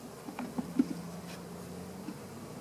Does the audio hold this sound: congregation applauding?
no